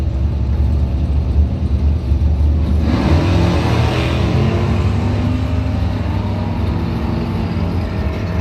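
A 1967 Ford Mustang drag car at a bracket race, its engine a loud continuous roar that builds as the car accelerates down the strip, the rumble steady throughout.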